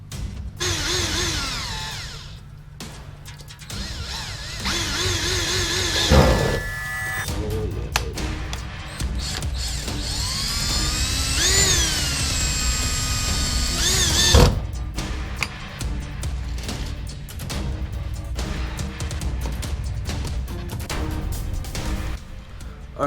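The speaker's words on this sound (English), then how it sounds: "So yeah, I'm gonna be using a drill." A power drill bores into a front splitter on a Dodge Challenger, whining and shifting pitch in several bursts of varying speed, close and fairly loud, with occasional clunks and handling noises.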